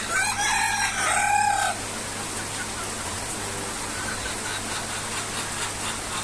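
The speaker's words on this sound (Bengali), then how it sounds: "দেখেন মাশাআল্লাহ মুরগিগুলো" A rooster crows once at the start on a farm during heavy rain, followed by a steady rain hiss with faint clucking from the chickens in the background.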